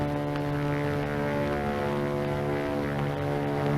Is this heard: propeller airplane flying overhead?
yes